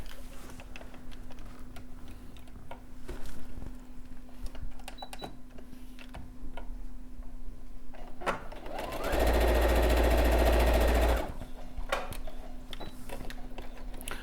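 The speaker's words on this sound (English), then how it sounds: "So I'm just going to start stitching through here." A sewing machine stitches through fabric during a quilting session, a steady buzzing run of needle strokes that starts and stops, with a louder sustained burst in the middle amid light handling noise.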